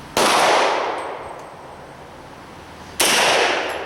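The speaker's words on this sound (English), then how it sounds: "So I'm going to shoot 5 rounds" Two sharp, loud Beretta M9 pistol shots fired at a target on a range, spaced about three seconds apart, each with a short decaying ring afterward.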